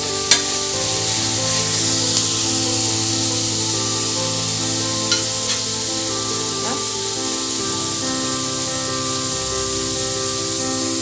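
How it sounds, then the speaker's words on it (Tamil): Tomatoes stirred into garlic paste in a hot pan for hotel-style goat trotter paya, a steady continuous sizzle and frying hiss with occasional scraping stirs, close and loud, no talking. "தக்காளி போட்டு நல்லா கலந்து விட்டுருங்க."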